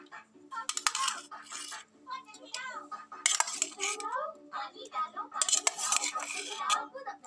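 Plates and cutlery are handled while food is served at home, with bright metallic clinks and clatters coming in repeated bursts, and a voice chattering in between.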